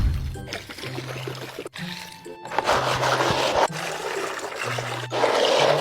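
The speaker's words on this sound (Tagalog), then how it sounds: "tsaka lalagyan natin siya ng tubig" Water poured into a stainless steel basin while making rolled ice cream, a steady splashing, trickling stream close by that runs continuously.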